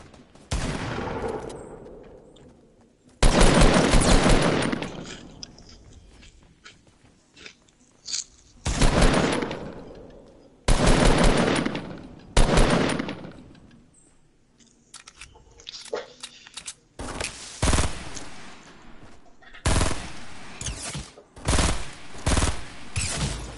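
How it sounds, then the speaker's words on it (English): Bursts of video game gunfire, shotgun blasts and burst-fire rounds, come in several loud clusters spread across the stretch, with quieter game sounds and some voice in between. "Oh, I almost got shot by a shotgun."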